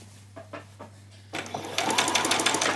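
A sewing machine stitches skirt gathers toward a placket, starting after a few soft clicks and settling into a fast, steady, close-up whirring run.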